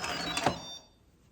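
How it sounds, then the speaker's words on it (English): A quick series of metallic clicks and a clack as an Instant Pot pressure cooker's lid latch turns to unlock, then the sound fades into quiet. "that was the sound of me unlocking it."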